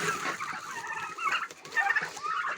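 Hungry turkeys and chickens in a farmyard, a busy mix of gobbling and clucking calls that overlap continuously, close and fairly loud, with no talk.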